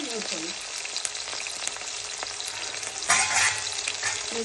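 Onion and curry leaves fry with mustard seeds in a hot pan, a steady close sizzle with stirring scrapes and a brief louder burst of crackling partway through.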